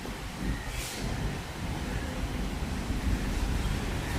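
Steady gusty wind roars and buffets the microphone, a constant broad rushing noise with no voices.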